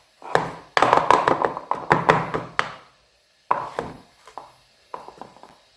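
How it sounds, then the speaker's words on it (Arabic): A pan of sponge cake batter being tapped against a surface to level it, with quick clusters of sharp hollow knocks in two bursts separated by silence, close and fairly loud. "شوفوا نخبطوها هكا بكامل الخليط تاعنا يتوازن لي مع البلا"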